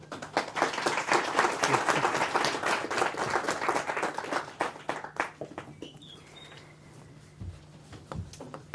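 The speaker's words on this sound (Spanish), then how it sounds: "los invito a que recibamos con un aplauso a la profesora María Angélica Figueroa" An audience applauds a lecturer at a university faculty talk, a dense burst of clapping that thins and fades after about five seconds, leaving a quiet room with a low hum.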